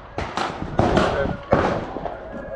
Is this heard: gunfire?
yes